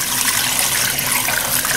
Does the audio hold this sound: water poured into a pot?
yes